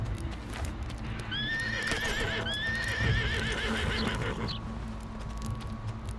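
A horse neighs in a video game set on a ranch, two shrill whinnies in quick succession followed by clip-clop hoofbeats over steady background ambience.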